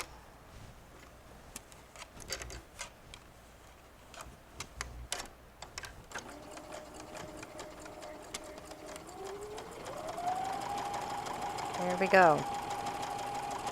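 A home sewing machine stitches a white strip to the raw edge of a quilt wall-hanging piece, first with short clicks and handling taps, then a steady rising motor whir that speeds up near the end, while a person speaks briefly.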